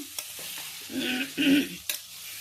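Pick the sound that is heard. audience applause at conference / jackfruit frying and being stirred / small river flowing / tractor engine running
jackfruit frying and being stirred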